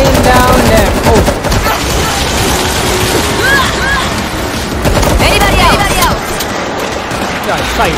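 Dense automatic gunfire mowing down zombies in the video game World War Z Aftermath, loud and continuous bursts with sea and boat noise in the mix and voices talking over it.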